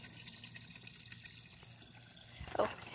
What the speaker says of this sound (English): Oh, I got water streaming down.